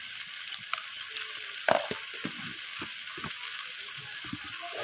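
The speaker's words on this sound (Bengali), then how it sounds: "তো সমস্ত কিছু এইভাবে আমি কষিয়ে নিচ্ছি।" Garlic and ginger paste with salt sautéing in a pan, a steady hiss of frying overlaid with scattered clicks and scrapes from stirring.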